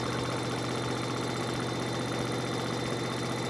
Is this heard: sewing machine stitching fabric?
yes